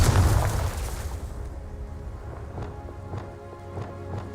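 A Confringo fire spell explodes in Hogwarts Legacy with a loud, rumbling boom that fades over a second, followed by quieter footsteps and game ambience.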